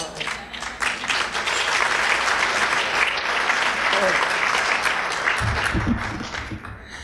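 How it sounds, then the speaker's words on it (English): Audience applause fills a hall at the 2003 National Book Awards ceremony, steady and dense for several seconds before tapering, with a voice beginning to speak near the end. "Thank you for the applause"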